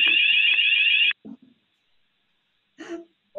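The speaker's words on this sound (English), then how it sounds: "we managed to find out where the fire alarm was" A fire alarm sounds in a council committee meeting room, a loud continuous high electronic tone for about a second before cutting off, followed by faint breaths and movement.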